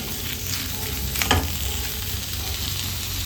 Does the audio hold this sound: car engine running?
no